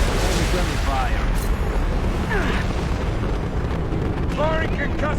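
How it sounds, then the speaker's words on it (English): A concussive shot in the Mass Effect 2 video game sets off a heavy, rumbling explosion that fills the clip, loud and sustained, with synthetic swoops and electronic tones sweeping over the roar. "Firing concussive shot"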